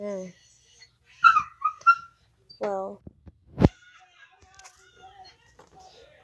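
A dog whines a few times in the distance, soft high-pitched whimpers between bursts of nearby talk in a quiet room.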